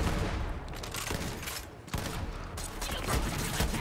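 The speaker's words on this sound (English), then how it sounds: "And I'll shoot you with my laser sniper rifle." A laser sniper rifle in the video game Borderlands 3 fires repeatedly amid dense gunfire, with loud bursts crowding together, a short lull, then more rapid shots.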